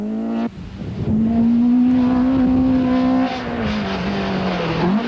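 A Nissan rally car on a special stage at the 1992 Tour de Total, its engine holding a loud, steady high-revving drone close by that dips briefly and then climbs again.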